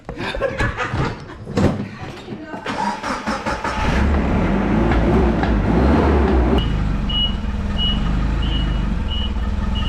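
A truck backs up outdoors, its engine rumbling loudly before a steady series of evenly spaced, high reversing beeps cuts through the heavy low drone, with brief voices early on.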